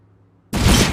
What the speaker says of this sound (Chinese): 给我在那边丢手雷